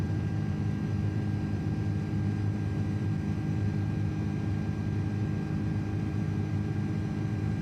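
A steady, low, droning engine roar from an Aer Lingus Airbus A330 at climb power in Microsoft Flight Simulator 2024, constant and unbroken with a faint tonal whine above it and no talk.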